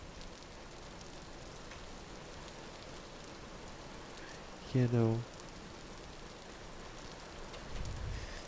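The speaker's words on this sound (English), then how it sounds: "Oh, rain. Wait, does rain give me water?" Steady rain falls in the survival game Vintage Story, a soft continuous hiss throughout, with brief speech breaking in partway.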